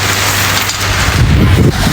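Heavy rain pours down outdoors in a steady, dense hiss with a low rumbling undertone, close and loud, with no talk.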